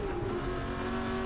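Ford GT40 race car engine at the Le Mans Classic, a steady loud droning roar at sustained revs from on board, with a faint tire squeal and no talk.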